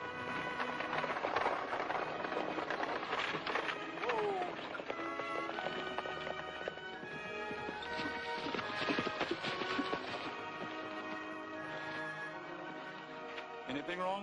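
Stagecoach horse hooves clip-clop in a quick, steady rhythm throughout, with a brief whinny and faint voices mixed in.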